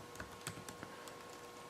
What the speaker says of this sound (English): I'm just typing something real quick.